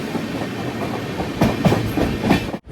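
The Mangaluru–Tirunelveli Express rolls slowly through a station without stopping, a steady close rumble with rhythmic clickety-clack of wheels over rail joints and a brief dip near the end.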